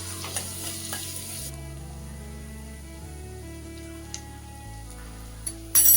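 Chopped onion sautéing with a pinch of turmeric and asafoetida in a pan, a soft sizzle with a few light clinks and scrapes of stirring, fairly quiet and close.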